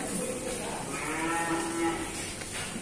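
A young Simmental bull calf, about six months old, moos once in a drawn-out low call at a cattle trader's yard, heard fairly close over steady background noise.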